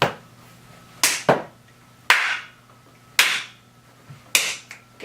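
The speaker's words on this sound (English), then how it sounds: "Super clap!" Hand claps at the end of a podcast come as five separate sharp, close claps spaced about a second apart, some with a quick double hit, over a quiet hum.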